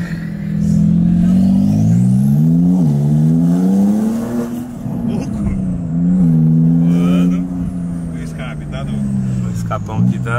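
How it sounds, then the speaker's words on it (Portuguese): Porsche 911 of the 992 generation with a biturbo engine revs and accelerates, a loud, continuous rising and falling engine roar with audible turbo sound throughout, gear changes breaking the pitch, with people talking over it. "Biturbo, por isso que ela subiu o barulho do turbo."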